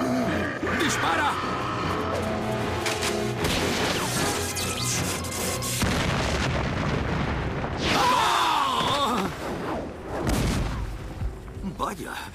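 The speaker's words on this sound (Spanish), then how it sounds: "ha sido una buena explosión para un solo cartucho de dinamita" Stick of dynamite detonating in an animated Tarzan series, a chaotic run of loud crashing blasts and bursts with debris clatter over several seconds, mixed with voices and soundtrack.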